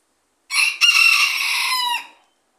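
A single rooster crows once loudly and close by in a backyard, a drawn-out call of about a second and a half with no other sound around it.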